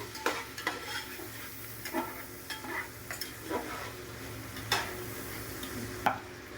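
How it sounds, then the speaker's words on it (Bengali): Chopped vegetables frying in hot oil for mixed fried rice, a constant sizzle broken by repeated scraping stirs and clinks of a spatula against the pan, close and moderately loud, no talk. "সবজিটা এবার ভেজে নেব ভালো করে।"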